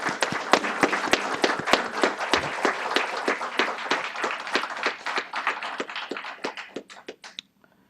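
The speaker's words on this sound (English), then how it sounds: "let's give them a big round of applause" At a premiere event honouring Korean War veterans, a small audience applauds their comrades, with distinct, crisp individual claps in a brisk irregular rhythm that gradually thin out and stop.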